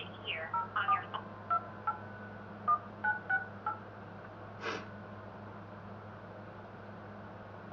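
Telephone keypad tones ring out as a date of birth is entered, about a dozen short beeps in uneven groups, clear and alone over a low steady hum.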